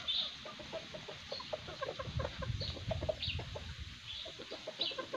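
Several chickens, tethered fighting cocks, cluck softly in rapid, irregular bursts, with occasional higher calls and a low rustling farmyard background.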